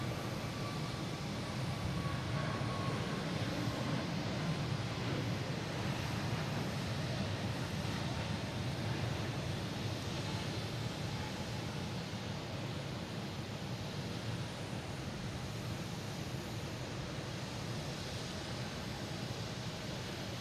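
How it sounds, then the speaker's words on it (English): An American Airlines A321neo jet takes off at Boston Logan International Airport, a distant, broad, steady roar of engine noise that holds faintly for about twenty seconds with no clear voices. "And also have American Airlines taking off, heading to Charlotte,"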